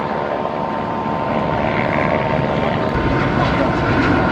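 Steady, loud helicopter engine drone with a rotor-like throb at an air show, continuous throughout and fairly close, with no voices.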